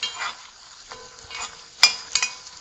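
Pimentos and onions fry in about three tablespoons of vegetable oil in a pot, giving a soft, steady sizzle with a few sharp clinks of a utensil against the pot. Nobody speaks.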